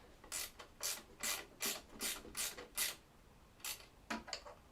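Small hand tool ratcheting while screws are tightened during assembly of a Creality Ender 3 S1 3D printer, a quiet, close series of rhythmic clicking bursts with a short pause before a final few.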